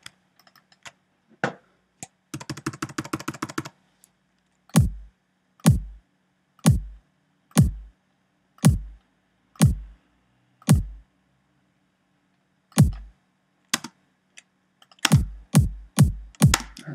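Single keys tap on a computer keyboard, a quick burst of rapid strokes early on, then evenly spaced sharp clicks about once a second, ending in a short flurry, close and clear with no talking.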